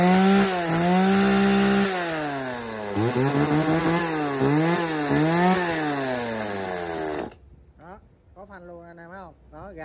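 A chainsaw engine drones loudly, its pitch swinging up and down as it revs, then cuts off abruptly, leaving a quieter rising and falling whine.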